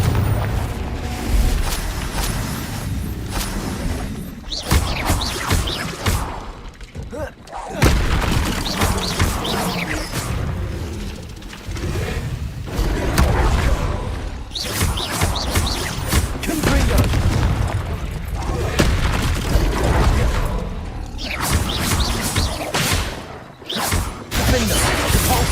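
Repeated Confringo blasting-spell explosions in the Hogwarts Legacy video game, loud booming bursts coming one after another amid continuous dense combat noise, with brief quieter gaps between flurries.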